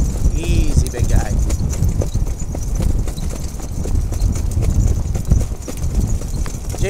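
A horse's hooves clip-clop in a steady, continuous rhythm, close and loud over constant background noise, while people talk alongside.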